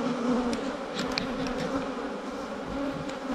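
Honey bees buzzing around the side of a hive box in a strong colony, a steady close swarm hum with individual bees zipping past, fairly quiet and with no talk.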